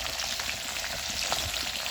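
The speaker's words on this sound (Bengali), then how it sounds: "চন্দনা মাছের একটু তেল বেরোয় ঠিকই মাছগুলো আমার ভাজা হোক" Chandana fish frying in oil over a hot stove, a dense, even hiss and crackle held for about two seconds, close up, with no voices.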